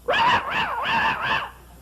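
A human voice imitates a small dog, giving four quick high yipping barks in a row, close and loud, with no other sound around them.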